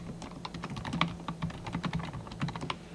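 Quick bursts of typing on a computer keyboard, rapid light key clicks at close range with brief pauses and a faint low hum beneath.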